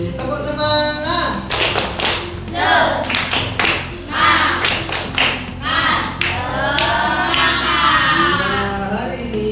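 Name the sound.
students doing a spirit clap in class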